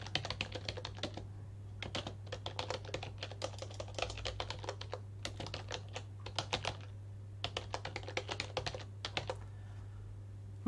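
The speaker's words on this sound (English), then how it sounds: "you start typing over exactly what you see up there" Rapid typing on a computer keyboard during a Linux installation, clattering keystrokes in quick bursts separated by short pauses, close and fairly quiet over a steady low hum, no talking.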